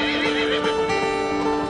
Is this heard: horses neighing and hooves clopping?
yes